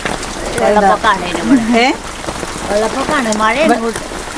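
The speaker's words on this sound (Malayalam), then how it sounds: "മഴയാണ് കേട്ടോ" Steady rain patters in the background while a person talks over it in two stretches of speech.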